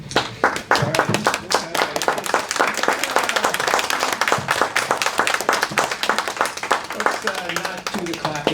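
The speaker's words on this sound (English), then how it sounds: "Let's not do the clapping or cheering or things like that." Audience applause at a public commission meeting: dense, rapid clapping from many hands, close and loud, sustained without a break through the whole stretch.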